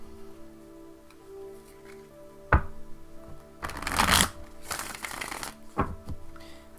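Tarot cards are shuffled by hand in soft bursts, a quiet riffle early on, then two louder, longer rustling shuffles with a few sharp taps, recorded close up with no talking.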